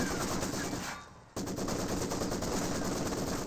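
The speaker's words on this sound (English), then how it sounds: "Maxim and MG34 engaging" Maxim and MG34 machine guns firing in the video game Company of Heroes 2, dense sustained bursts of automatic fire that briefly drop away before resuming loud and continuous.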